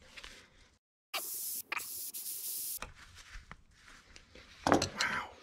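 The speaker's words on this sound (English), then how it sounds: "And rust bomb. Oh, rust bomb. Yeah. Basically like WD-40, but better. Made by Conklin." Conklin Rust Bomb penetrating oil sprayed from an aerosol can, one sharp continuous hiss of roughly a second and a half followed by rubbing and handling noises, with brief voices nearby.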